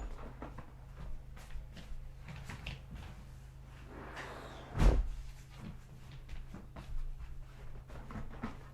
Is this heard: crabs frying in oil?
no